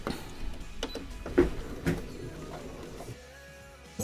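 A sewing machine motor whirs softly as it slowly stitches a curve in fabric for a spice rack, with a few faint thumps and clicks over its steady hum, then a quieter, lower whir.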